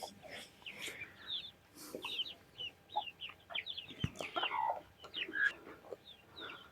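Chickens and small chicks cluck and cheep in a backyard coop, with many short, overlapping calls close by at an uneven, busy pace and a single sharp knock in the middle.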